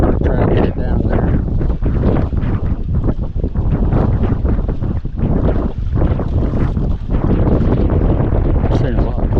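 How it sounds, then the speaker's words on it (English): Strong wind buffeting across a lake during drift fishing from a boat, a loud continuous rumbling roar with gusty surges close to the microphone. "Definitely going to have to set up for this higher wind condition."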